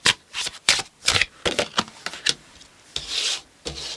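Tarot cards shuffled by hand at close range: a quick irregular series of papery riffles and rubbing slides, with brief pauses between bursts and no talking.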